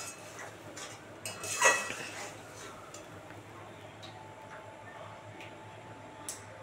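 A spoon clinks and scrapes against a pan while sesame paste and spice mix are stirred and fried, with a louder metallic knock early on, then soft ticking and stirring over a low steady hum.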